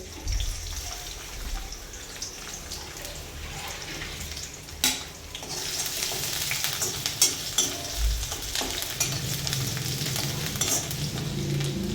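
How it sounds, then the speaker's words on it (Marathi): Garlic frying in hot oil in a kadhai for a cauliflower chilli dish, a steady close sizzle that grows fuller and louder partway through, with a few clinks of stirring and no speech. "त्याच्यामध्ये लसूण टाकून घेत आहे अगोदर"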